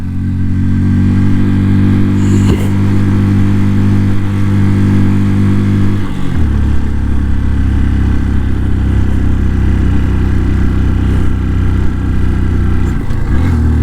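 A motorbike engine labours steadily uphill on a high mountain road in Mustang, Nepal, a loud, continuous low drone that shifts pitch around midway as the gear changes, with wind rushing over it.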